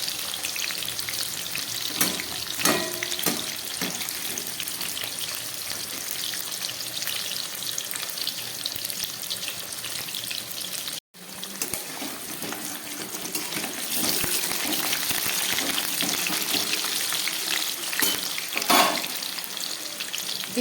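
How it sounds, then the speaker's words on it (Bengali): Potatoes frying in a pan for a mutton dish give a steady, close sizzle with clinks of stirring and a brief break near the middle. "আলুগুলোকে খুব ভালো করে আমি ভেজে নেব।"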